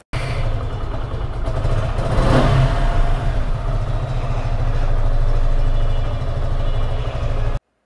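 A 2024 SF FI ABS motorcycle engine runs steadily at close range, a continuous low mechanical drone with a brief swell of revving near the middle, no talking over it.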